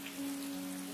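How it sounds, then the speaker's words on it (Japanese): Steady, soft rain falling in the video game Atelier Ryza 2, a continuous gentle patter over a low background hum, with no voices. "雨降ってるけどね。"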